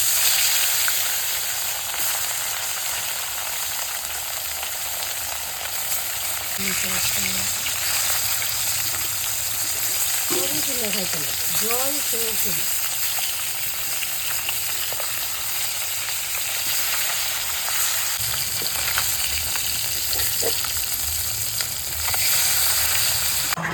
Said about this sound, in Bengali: এই যে বাকি মাছগুলো এইভাবে ভেজে নিচ্ছি।